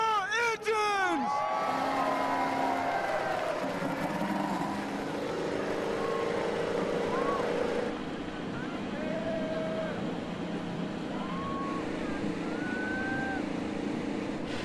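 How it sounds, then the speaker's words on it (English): IndyCar race car engines start and rev at the 2019 Long Beach Grand Prix, a dense, loud mechanical drone with rising and falling whines across the field, under a crowd and a spoken announcement at the start. "Drivers, start your engines!"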